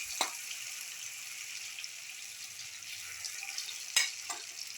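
Onion and chickpea flour fritters fry in a pan, giving a quiet, even hiss of oil with a couple of sharp clinks standing out briefly above it.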